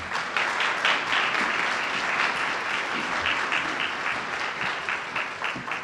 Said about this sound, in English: So now another round of applause for Colleen Marshall.